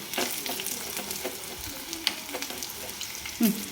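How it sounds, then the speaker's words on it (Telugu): Bitter gourd fries in a pan with little oil, giving a steady close sizzle with crackling pops and occasional stirring scrapes, with no voices over it. "ఇక్కడ మేము సెల్ పక్కన పెట్టేసి కాకరకాయ ఫ్రై చూసుకోవాలి మాడిపోతుంది"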